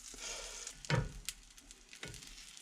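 Eggs fry in butter in a pan in a cabin kitchen, a soft crackling sizzle with a few sharper pops and spatula scrapes, fairly quiet and with no talking.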